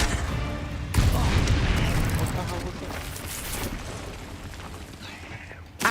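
A Confringo spell blast in Hogwarts Legacy, a sudden loud boom followed by a long rumbling, crackling decay, with a voice talking over the action.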